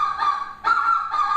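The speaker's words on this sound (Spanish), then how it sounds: "el sonido del ganso es un sonido agudo" Goose giving three loud, close nasal honks in quick succession, each a sustained high-pitched call with short gaps between, with no voices.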